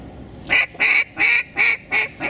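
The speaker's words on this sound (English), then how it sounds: "Here's a pair of ducks." A pair of ducks calls during a hunt on an overcast, windless day, five evenly spaced honking quacks, clear and fairly close with no talk.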